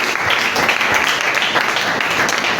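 A church congregation applauds steadily to acclaim the Lord during a worship service, a dense, continuous wash of many hands clapping that fills the room without a break.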